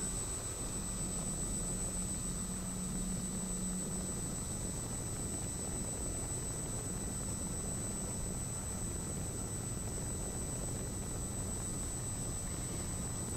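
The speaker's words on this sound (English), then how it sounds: "big speed difference there between the two aircraft, so I have to back right off on the power." A light aircraft's engine drones steadily and loudly in flight with a thick broadband roar and a constant high whine, filling the whole stretch without talk.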